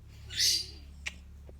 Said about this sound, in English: Yes, even my birds talk to me.